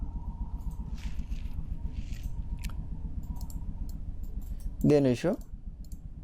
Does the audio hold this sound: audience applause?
no